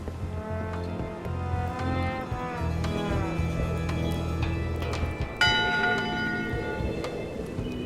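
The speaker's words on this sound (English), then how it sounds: "Go ring the bell yourself." A large bell in the Return to Monkey Island game rings out with several resonant strikes, its long ringing tones overlapping and sustaining, then a fresh strike near the end over a low humming background.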